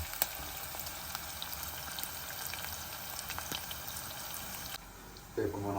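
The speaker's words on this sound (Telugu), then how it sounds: "ఆనియన్స్ అన్నీ వేగుతున్నాయి" Onions fry in a pan for dal tadka with a soft, steady sizzle and scattered crackles. A brief clatter comes near the end.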